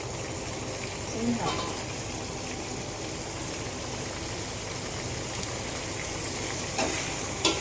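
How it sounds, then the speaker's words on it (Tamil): Tomatoes sauté in a pan for biryani, giving a steady, fairly quiet frying sizzle that runs the whole time with a couple of faint clinks. "தக்காளி போட்டு நல்லா வதங்கிட்டதுக்கு அப்புறம் தான் இஞ்சி பூண்டு பேஸ்ட்டு போடுவோம்"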